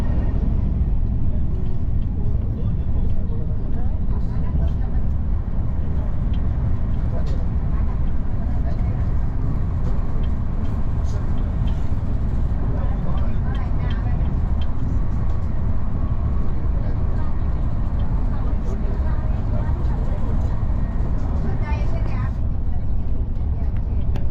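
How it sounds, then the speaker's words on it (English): Inside a non-AC ICF double-decker train carriage with open old windows, loud continuous rumble and clatter of the moving train fill the journey, with faint voices and occasional squeals mixed in. "Here you'll experience the train's vintage atmosphere up close, with old train windows that invite fresh air and the sounds of the journey."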